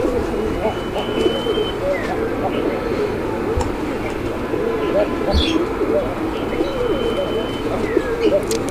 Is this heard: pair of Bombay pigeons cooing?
yes